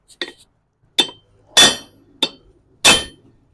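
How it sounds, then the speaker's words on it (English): A hammer strikes a chisel in five sharp metallic blows to crack a bearing collar on a Buick, Olds, Pontiac 8.2-inch 10-bolt axle, spaced unevenly, close and loud, with brief ringing after each hit. "Just got a standard chisel here, nothing special, little hammer"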